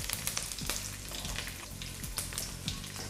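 Mustard seeds sizzling and popping in hot oil, a steady close frying hiss punctuated by irregular sharp crackles and small bursts, heard alone.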